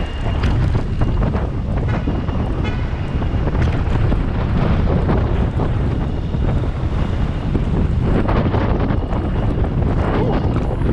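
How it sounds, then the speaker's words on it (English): Strong wind with rain starting, a loud, continuous roar of gusts battering the microphone for the whole stretch, dense and unbroken, with no clear speech over it. "I'm probably not going to be able to do any talking here because it's so windy."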